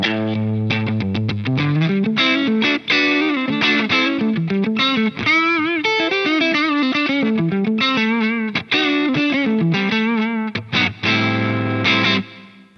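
An electric guitar plays a distorted riff through an Atomic Amplifire 6 with a low-cut pre-EQ, loud and upfront, with chugging palm-muted low strings and ringing chords, and no voice.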